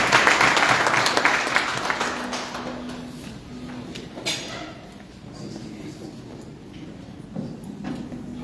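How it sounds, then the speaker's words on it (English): An audience at a learning and adaptation workshop in Kaduna state applauds, with dense clapping loudest at the start and thinning and fading over the following seconds into scattered claps and room noise. "Please let's clap for him."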